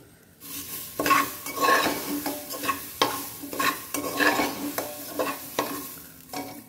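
Food sizzles in a frying pan while a utensil stirs and scrapes it in repeated, close strokes, with no voices.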